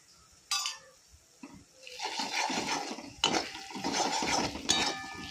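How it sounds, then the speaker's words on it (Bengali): Ginger paste being stirred into onion and garlic frying in a pan, with clinks and scraping of a utensil against the pan over a steady hiss of sizzling oil that grows louder partway through. "ভালো করে আদা বাটা দিয়ে নাড়বো"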